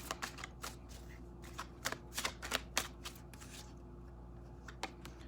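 Tarot cards are handled and drawn from a deck, producing quick, close bursts of papery flicks and riffles that cluster in the middle and thin out toward the end.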